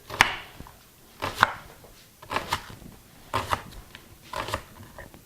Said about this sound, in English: my husband is going to be chopping the vegetables